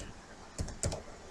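Two quick, soft keystrokes on a computer keyboard, close and quiet, with faint room hiss around them.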